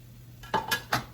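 Seasoned chicken laid into a pan of oil that is not fully hot, giving a few close clattering clinks of metal and a soft sizzle spread over about a second.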